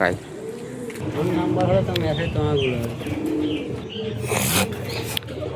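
Domestic pigeons at a home loft coo repeatedly in a low, warbling rhythm, close by, with a person talking over much of it.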